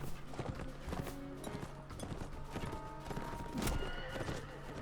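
Horse whinny and clip-clopping hooves in the Mount & Blade Warband video game during a tournament, with a neigh rising over a busy, dense mix of galloping, clashing and crowd noise.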